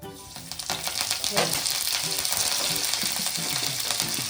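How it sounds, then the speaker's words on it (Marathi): Cumin, mustard seeds, curry leaves and sesame seeds sizzle in hot oil for a tempering, a dense, close, continuous crackle and hiss with occasional sharper pops and faint stirring. "तेल टाकलं आहे थोडं मी आता आता त्याच्यामध्ये हे मी जिरं मोहरी थोडासा कढीपत्ता थोडेसे तीळ हे टाकणार आहे"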